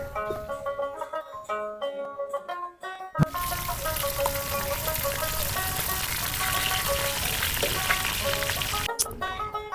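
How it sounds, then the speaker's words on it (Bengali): Fish frying in a pan over an outdoor fire in a crop field: after a few quiet seconds a loud, dense sizzle bursts in and continues steadily, then cuts off briefly near the end. "এই যে এখানে মাছ ভাজি হয়ে গেছে এখন মাছ উঠানো হচ্ছে"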